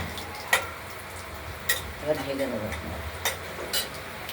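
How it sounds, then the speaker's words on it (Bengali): Banana stem curry with fried bori cooking in a pan, a low sizzle under intermittent spatula knocks and scrapes as it is stirred, close by, with a faint voice in the background. "আমরা ঢাকনাটি খুলে নেড়ে দিলাম"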